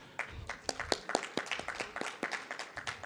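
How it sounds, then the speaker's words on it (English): Audience clapping at an IOM Kenya International Migrants Day event, a scattered run of sharp, distinct claps from a modest crowd, fairly light and uneven in rhythm. "Please clap for yourself."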